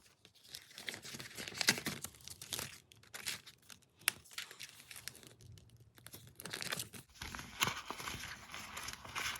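Paper cash and budget envelopes being handled, with close, irregular crinkling, rustling and tearing-like bursts that come and go in quick clusters, no talk.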